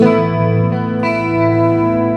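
An electric guitar plays through a Boss GT-8 multi-effects distortion patch. A sustained, loud, gritty chord rings out with a fresh pick attack partway through, and no talking is heard.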